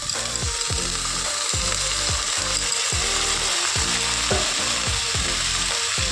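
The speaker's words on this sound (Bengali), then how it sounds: "পেঁয়াজটা লাল লাল করে ভাজা হোক, তারপরে রসুন দেবো।" Onions fry in a pan with a steady, bright sizzle, while a rapid, rhythmic clattering, like stirring or scraping, repeats close by throughout. No one speaks.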